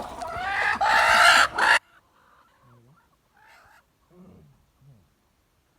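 A loud burst of close hen vocalizing, then quieter, scattered soft clucks against near silence.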